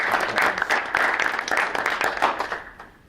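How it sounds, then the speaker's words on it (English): A school board meeting audience applauds the teaching staff, a dense burst of many hands clapping close and steady for about three seconds before tapering off at the end. "Yeah, that really does deserve a round of applause."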